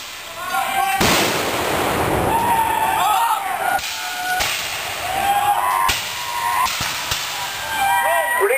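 Musket fire from British Army line reenactors at a battle reenactment, sounding as a series of sharp outdoor reports and booms spread over several seconds, with crowd noise and a steady high whine underneath.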